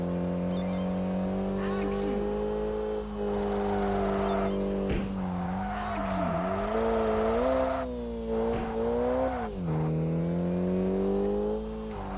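Race car engine revs rise and fall with gear shifts and squealing tires in the Kaido Racer driving game, steady and prominent, with someone talking over it.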